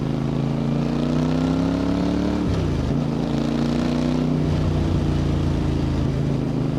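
A Voge 625DSX motorcycle with a Scorpion exhaust runs with a loud, steady engine drone, its pitch dipping briefly midway before settling back to a constant note, heard close and with no talking over it.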